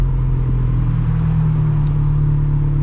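A turbocharged FRS with a titanium center-exit exhaust, driving with a loud, steady engine rumble and drone close to the microphone. No distinct pops or bangs stand out.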